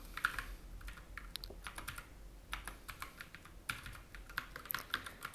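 Rapid, uneven keystrokes on a computer keyboard while code is typed, close and clear, in bursts with short pauses and no talking.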